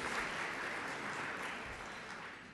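A community audience applauds a guest asked to stand, a brief, dense wash of clapping at moderate volume that fades slightly toward the end.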